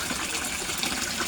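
Water churns and gushes in a koi fish pond where a submersible pump runs, a continuous close, fairly loud rushing with no voices.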